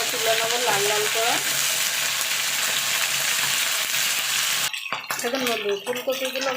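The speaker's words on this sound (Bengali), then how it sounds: "ফুলকপিগুলো ভেজে নেব।" Cauliflower florets frying in hot oil for a vegetable khichdi, a steady loud sizzle and bubbling that runs unbroken, cuts out briefly near the end, then resumes.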